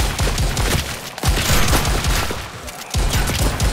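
Rapid shotgun blasts in a co-op VR zombies game on a museum map, loud close booming shots fired in quick overlapping bursts with short gaps, one pause near the middle before the firing resumes.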